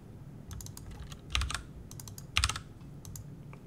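Typing on a computer keyboard, close and fairly quiet, with irregular clusters of key clicks and two louder bursts of keystrokes, no talking.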